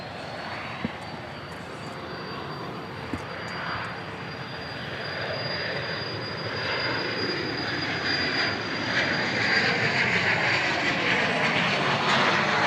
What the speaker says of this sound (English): This is Southwest Flight 2703 coming in from Charleston, South Carolina. It's a MAX 8.